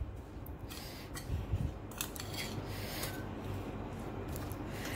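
Onion pickle (savala achar) stirred with a spoon in a bowl, giving soft scraping and rubbing sounds with a few louder knocks, close and steady, without talk.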